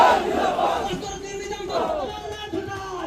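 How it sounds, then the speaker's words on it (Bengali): Supporters at a political rally in Algapur chant slogans in a loud crowd, voices rising in repeated waves of shouting. "এরই মাঝে সভাস্থলে ওঠে একের পর এক স্লোগান।"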